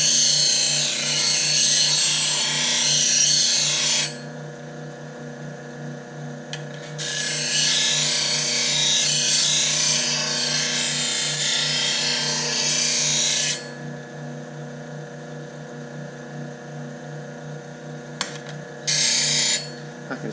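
Bench grinder sharpening a 40-40 woodturning bowl gouge, a steady motor hum broken by two long bursts of harsh hissing grind as steel meets the wheel, then a brief final touch, close.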